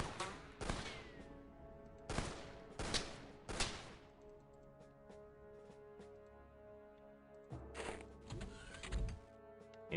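Several bursts of gunfire in the XCOM video game, sharp broadband volleys clustered near the start and again toward the end, with a steady droning background between them and no talk.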